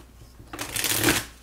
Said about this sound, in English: I am going to shuffle a few more times on camera here.